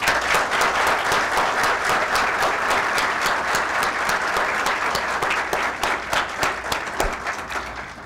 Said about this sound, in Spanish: a quien le pido recibamos con un fuerte aplauso